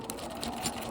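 A sewing machine runs continuously as it stitches the inseam of pants made from a heat sheet, giving a steady, close mechanical whir with a brief pause for a pivot.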